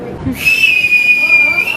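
A single long high whistle, loud and close, holding a steady pitch for over a second after a short rustle at the start.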